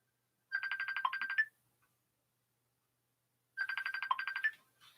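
A phone ringtone sounds in a basement room near a pillow, two bursts of rapid electronic trilling tones about a second long each, separated by a few seconds of silence.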